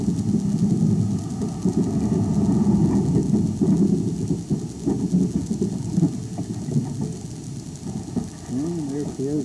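A freight train rolls along a single-track main line in Ontario, a steady low rumble of wheels and railcars with rhythmic clunks, moderately loud and continuous, with faint engine drone underneath.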